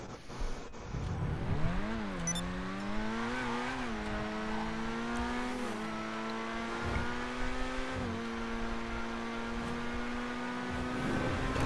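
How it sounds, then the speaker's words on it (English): Car driven in the GTA Online video game, engine revving up through rising and shifting pitches, holding a loud steady drone with brief tire squeal, close and continuous without talk. "I'm gonna drive this car real quick."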